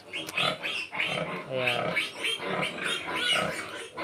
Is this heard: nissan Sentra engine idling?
no